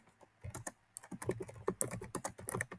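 Rapid keystrokes on a computer keyboard as file content is typed in, clustered bursts of close, crisp clicks with short pauses between them and no talking.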